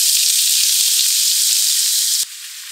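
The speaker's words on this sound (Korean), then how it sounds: "중불에 올리브유 3큰술을 둘러요. 오일에 열이 올라오길 살짝 기다렸다가 양파를 볶기 시작해요." Onions sizzling in three tablespoons of olive oil over medium heat, a steady loud close frying hiss with faint stirring taps, dropping slightly quieter near the end.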